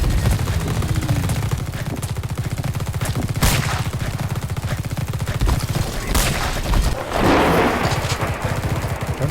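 Steady automatic gunfire in the sci-fi squad game The Red Solstice, a continuous rapid stream of shots punctuated by a few sharp louder cracks and a booming hit, close and dense throughout.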